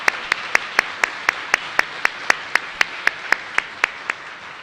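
An audience applauds Ann at a food jobs seminar, heard as steady, evenly spaced claps in a crisp rhythmic train lasting several seconds, with no voices over them.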